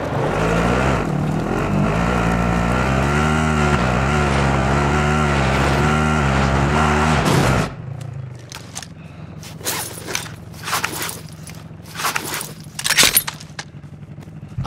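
A game vehicle in Call of Duty Warzone drives with a loud, steady engine drone that cuts off abruptly, followed by scattered sharp clicks, thuds and impacts against quieter background noise.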